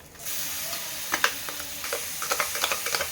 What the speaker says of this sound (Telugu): ఇది ఫ్రై అవుతుంది కదా